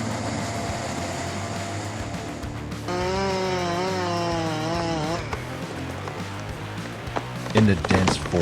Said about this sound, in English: In the dense forest, the sharp roar of the chainsaw breaks the silence of nature.